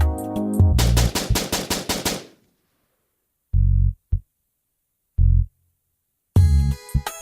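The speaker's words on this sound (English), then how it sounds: "a machine gun erects from his chest and sprays gunfire" Rapid bursts of automatic machine-gun fire rattle loud and close, a fast string of shots followed by a few isolated heavy thuds separated by silence and a final clattering burst, with no voices.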